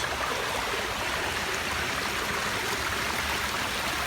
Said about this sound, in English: When all the features are running in this garden, you can hear water.